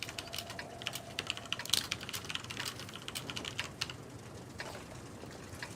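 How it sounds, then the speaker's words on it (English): Rapid typing on a computer keyboard, a steady stream of quiet, close key clicks with occasional louder taps, and no one talking. "do you hear all that typing?"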